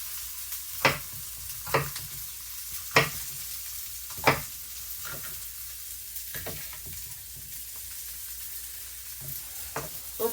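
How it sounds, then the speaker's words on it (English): Potatoes fry in a skillet with a quiet, continuous sizzle, broken by several sharp clacks of stirring or utensil contact against the pan at irregular intervals, with no one speaking. "I'm just leaving the potatoes there to watch them cook"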